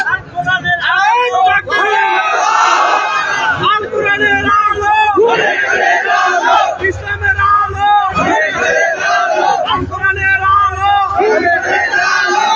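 Large crowd at a Bangla religious sermon shouting a slogan together, loud massed voices rising and falling in repeated chant-like bursts that fill the whole stretch.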